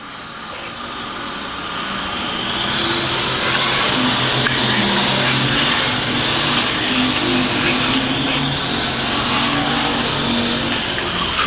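Race cars lapping a track during qualifying scrambles at the Show Me Spectacular, thirteen cars out at once, make a loud continuous engine roar that swells after the first couple of seconds and stays steady, with no talking.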